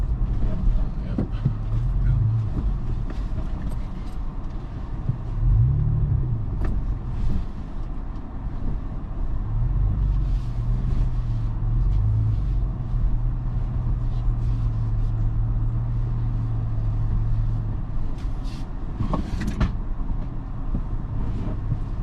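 A Toyota FJ Cruiser on E-load tires crawls off-road over sharp laid-down rocks, its engine a steady low drone with intermittent bumps and creaks throughout.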